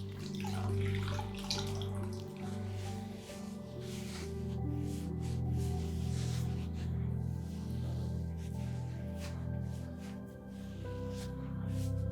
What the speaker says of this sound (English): Using fresh, clean water, I wash away all the remaining face mask.